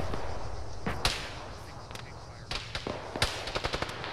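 Tank cannon and gunfire in a military video game, a series of sharp distant cracks and booms, some clustered in quick bursts, over a steady rumbling background with no talking.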